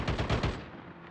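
Rapid automatic gunfire in the Call of Duty Mobile battle royale, a quick burst of about four shots fading into a short tail, loud and without talk.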